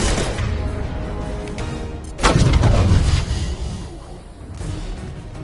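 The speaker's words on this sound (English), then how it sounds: "Firing a high-impact shot." High-impact weapon shot in the video game Mass Effect 2, a heavy booming blast with a sharp crack and long rumbling tail, loud and close, amid ongoing combat noise.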